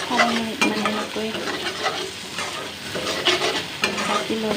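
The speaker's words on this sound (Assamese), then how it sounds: "মই ইয়াকে ধুনীয়াকৈ ভাজি ল'লোঁ" A spoon stirs and scrapes through sizzling rajma masala frying in a pan, giving repeated sharp scraping strokes over a steady close sizzle, with no talk.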